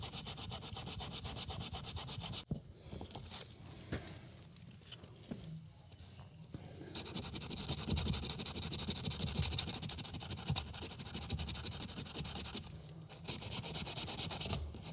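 Chewing gum is scrubbed out of the interior of a Mercedes GLE SUV with a brush, giving repeated close rubbing and scratching strokes that pause briefly, then resume more loudly.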